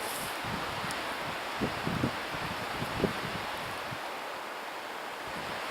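Strong wind blows across an open snowy mountainside during a solo winter camping trip, a steady broad roar with a few faint buffets and gusts against the microphone.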